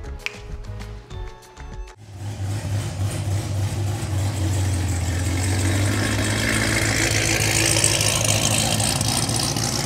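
A 2021 Yenko Camaro Stage 2 with a custom blueprinted LT1 V8 idles steadily and close by after a couple of brief sharp knocks, its deep low rumble holding on with a slight rising hiss.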